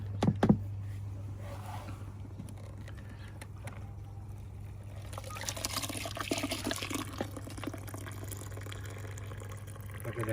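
Bourbon grain wash trickling back into a vessel during sparging to separate the grain, a steady watery trickle and splashing that grows busier midway, heard alone against a constant low hum.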